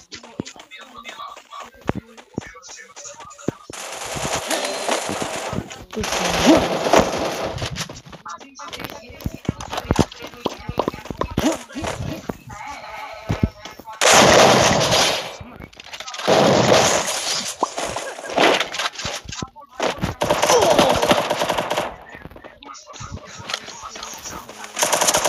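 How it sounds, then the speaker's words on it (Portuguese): Bursts of automatic gunfire in the Free Fire battle royale game come in loud, dense volleys separated by short pauses, with scattered single shots and clatter in between. "Essa menina tá atirando dentro da parede."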